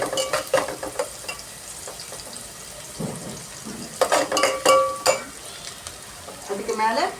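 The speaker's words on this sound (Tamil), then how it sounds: "கலக்கணும். ரொம்ப கலக்கக்கூடாது." Onions frying in a pan for ghee rice are stirred, giving a steady low sizzle broken by bursts of scraping and clinking from the spoon against the pan, close up, with a louder flurry of stirring near the end.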